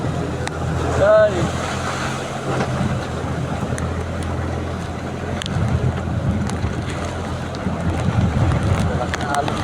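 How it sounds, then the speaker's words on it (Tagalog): Rough, broad wash of surf and wind noise with heavy waves surging around a moving boat, steady and loud throughout with a brief tonal blip early on. "Oh, talsik ng alon guys, lalaki ng alon."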